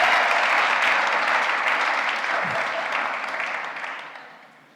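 A church congregation claps and cheers in praise, with loud sustained applause that gradually fades toward the end.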